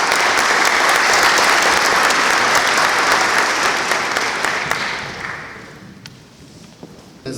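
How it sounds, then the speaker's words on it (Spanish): An audience at a bicentennial lecture in Pueblo Libre gives a loud, sustained round of applause to welcome a speaker, holding strong for several seconds before thinning out and fading to scattered claps. "Lo recibimos con un fuerte aplauso."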